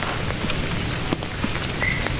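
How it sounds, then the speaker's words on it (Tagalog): Heavy rain from a typhoon pours down steadily, a dense wash of hissing and patter with no pauses. "Hindi humihinto yung ulan dito."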